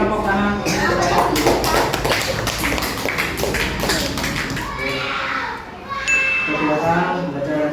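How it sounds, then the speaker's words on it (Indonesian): A class of children applauds together in a classroom, a dense burst of clapping that fades after a few seconds into chatter and movement. "Diberi tepuk tangan."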